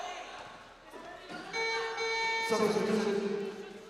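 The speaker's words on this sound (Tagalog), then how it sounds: "just trying to beat the buzzer from sounding off" A loud, sustained electronic game buzzer at a basketball game blares over crowd noise and excited commentary, holding a steady harsh tone for a couple of seconds.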